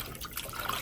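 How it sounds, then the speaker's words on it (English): Cold tap water runs steadily over chicken being rinsed for a stew, a soft continuous trickle and splash heard close and fairly quiet. "We're gonna run the cold water"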